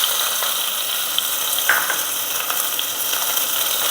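Small onions sautéing in a pan for a quail gravy, a loud, even, dense sizzle with a few faint spatula clicks, close up and without pause.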